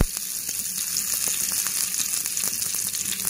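Curry leaves and fennel seeds sizzle steadily in about two spoons of hot oil during tempering for a mutton kari podimas. The loud, even hiss and crackle continues throughout, with scattered small pops and no talk.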